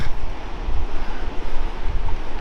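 Ocean waves rush and break along a Faroe Islands coast beneath a rocky ravine, a loud continuous roar of surf mixed with gusting wind buffeting the microphone.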